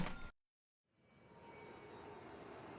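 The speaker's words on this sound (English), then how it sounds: "A plane just appeared from behind that building." An airplane in an anime scene passes out from behind a building, a steady broadband engine roar that swells after a brief silence and holds at a moderate level, with no one talking.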